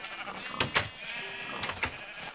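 Sheep bleating on a farm in a video game, several short bleats in quick succession, fairly close, over a faint steady background hum.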